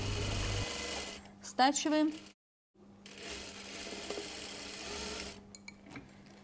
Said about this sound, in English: I'm stitching the seam.